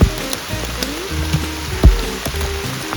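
Rain falling in a forest, a steady patter of drops on leaves and surfaces with a few louder nearby splats, and a voice speaking briefly over it.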